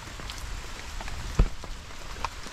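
Rain patters on a surface nearby, with scattered individual drops and one louder knock standing out from the steady wash.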